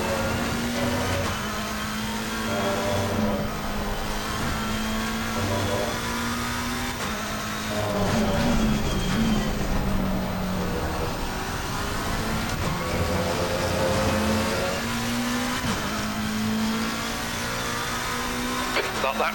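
A McLaren race car engine in the Assetto Corsa Competizione racing game at Kyalami, droning and rising and falling steadily through gear shifts and revs throughout, close and loud, with someone talking over it at times.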